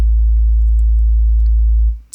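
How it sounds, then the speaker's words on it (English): A plain, loud sub-bass sine tone generated in Ableton Live holds steady for about two seconds, then drops away abruptly, followed by a brief faint click. "here I've got a really simple sine wave"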